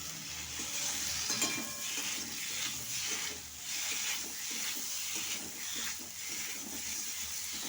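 Boiled potatoes go into a spice paste frying for a lentil and egg dish, and the pan sizzles and hisses steadily while a spoon scrapes and stirs in a regular rhythm up close.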